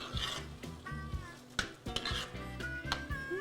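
Spoon stirring cornbread hushpuppy dressing with vegetables in a pot, Louisiana-style home kitchen, giving repeated scraping and clinking strokes against the pot with some faint sizzle, close and fairly clear with no talking.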